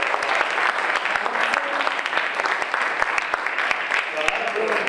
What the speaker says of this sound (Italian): Allora, ringraziamo Massimo Pilla, lo accogliamo con un applauso.